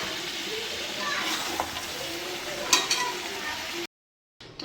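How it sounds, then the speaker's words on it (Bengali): Fried potatoes being stirred into a mutton curry in a pan, a soft steady sizzle with occasional scraping stirs before the sound cuts out briefly near the end. "ভাজা আলুগুলো দিয়ে দিলাম এবার খুব ভালো করে কষাবো"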